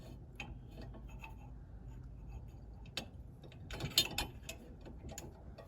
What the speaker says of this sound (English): You can pull the pin, drop it down to the last hole.